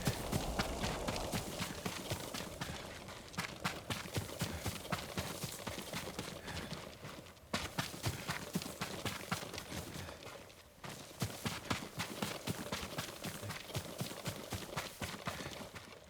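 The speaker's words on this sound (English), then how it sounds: "Yuriko's horse. She can't be far." Steady clip-clop of horse hooves from Ghost of Tsushima, a rhythmic run of close, loud hoofbeats that carries on for the whole stretch, with brief dips in between and no one talking.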